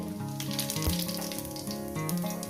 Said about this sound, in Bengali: তেলটা আমার গরম হয়ে গেছে বন্ধুরা দিয়ে দেবো এখানে গোটা জিরে